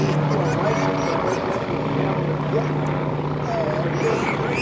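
Warbird aircraft on the runway at the EAA AirVenture airshow, a steady droning engine roar holding at a constant loud level throughout, with radio-style voices speaking over it.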